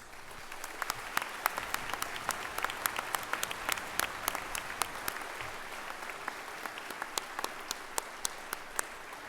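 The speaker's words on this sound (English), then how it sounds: "Let's have a round of applause." Steady applause from a graduation ceremony audience after the conferring of master's degrees, heard as a moderate, even wash of many hands clapping with a few sharper claps standing out, sustained throughout.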